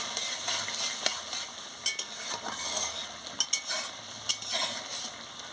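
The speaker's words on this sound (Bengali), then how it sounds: "মিষ্টি দিয়ে ভালো করে একটু নাড়িয়ে নিচ্ছি।" Crab curry with potato being stirred in a pan after a little sugar is added, a steady sizzle under scattered spoon scrapes and light clinks, close and moderately loud with no talking.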